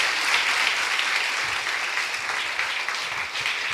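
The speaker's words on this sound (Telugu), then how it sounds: "చప్పట్లు కొట్టి దేవుని మహింపరచుదా" A church congregation claps together during Sunday worship in a loud, steady burst of hand-clapping that holds for several seconds and then gradually thins out.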